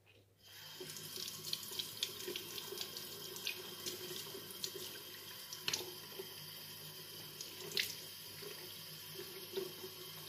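Tap water runs steadily into a sink during a shave, starting after a brief quiet moment and continuing as a close, even rush with small splashes and clicks over it.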